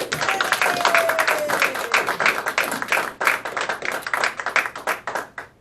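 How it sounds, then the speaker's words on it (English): An audience applauding as a young magician comes on stage for a comedy magic show, with dense, lively clapping filling the room and a brief whistle early on before the clapping thins out toward the end. "Everybody, please put your hands together for Mr."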